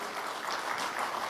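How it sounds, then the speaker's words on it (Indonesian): Steady applause from a crowd fills the short stretch, a dense wash of clapping at even loudness with no pauses. "Tepuk tangan juga untuk Bapak Don Bosco."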